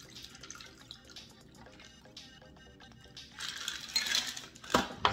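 A cocktail poured into a glass, liquid trickling and splashing with small clinks, building louder toward the end with a sharp clink near the finish.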